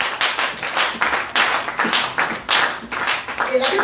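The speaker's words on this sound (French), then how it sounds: "Acclamons Jésus. Let's clap to the Lord." A church congregation claps for the Lord in a steady, rhythmic beat of many hands, fairly loud and continuous, with voices faintly underneath.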